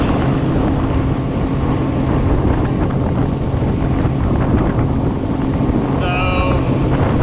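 A Tohatsu 30hp outboard motor drives a Gheenoe LT25 boat at speed near 5,300 RPM, a steady loud engine drone mixed with heavy wind rush and water spray, close and continuous.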